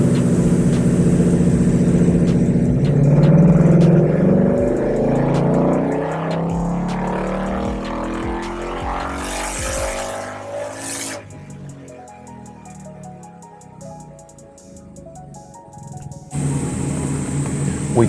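A 2015-2019 Ford Mustang GT V8 on a chassis dyno during a base power run, its engine note sweeping up loud and steadily through a long pull, then dropping away to a lower idle before rising again.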